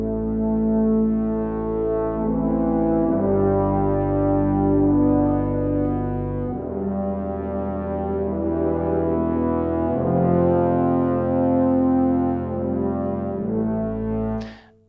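A low virtual-orchestra brass section without trumpets, from the BBC Symphony Orchestra Professional sample library, plays a slow, stately passage of sustained chords that change every few seconds, full and powerful, ending with a sharp cutoff.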